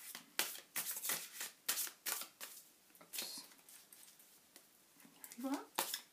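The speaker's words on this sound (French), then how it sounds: "comme je n'ai pas encore assez mélangé mon jeu, je la remets dans le tas" Deck of tarot-style cards being shuffled and handled up close, with a run of quick papery riffles and taps, pauses between bursts and a short voiced sound near the end.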